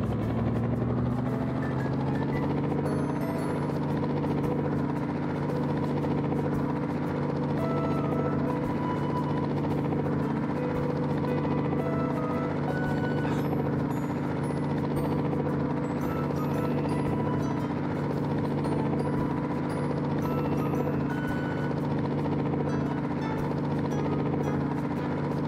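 Helicopter in the video game High School Simulator, a loud, continuous rotor and engine drone with a steady whirring beat that holds unbroken and close for nearly half a minute, with no talking over it.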